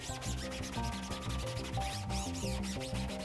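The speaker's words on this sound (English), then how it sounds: "We'll start scrubbing the underneath." A rag scrubs the underside of a screen on a Ving Press T-shirt printer during cleaning, making quiet repeated rubbing strokes beneath soft background music.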